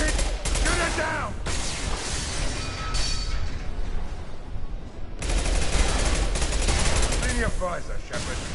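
Sustained bursts of sci-fi gunfire from Mass Effect 2, rapid overlapping shots in dense volleys that fill the whole stretch with barely a lull, with game voices briefly heard between bursts.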